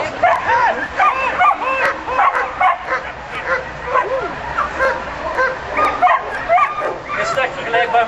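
A dog just let loose outdoors barks, yips and whines excitedly in quick, repeated bursts, loud and close, with people talking in the background.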